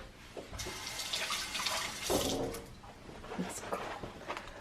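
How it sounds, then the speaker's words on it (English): Tap water splashing through a kitchen strainer as it gets rinsed, a close, uneven gush and spatter lasting several seconds with a faint voice in the background. "Get my strainer. I'm gonna rinse it."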